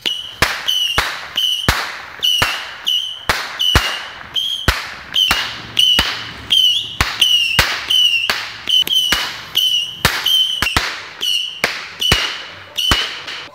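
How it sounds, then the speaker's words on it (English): Fourth of July fireworks burst in a rapid, irregular series of sharp loud cracks and bangs, each followed by a crackling tail, about two dozen explosions over several seconds, heard outdoors with no talk. "That was it. That was the firework show."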